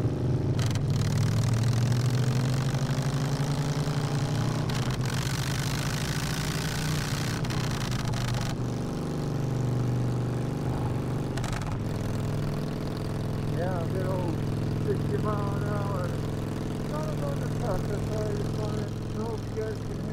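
A Harley motorcycle engine idles with a steady low rumble, close and loud throughout, with a few small fluctuations and faint higher chirps later on.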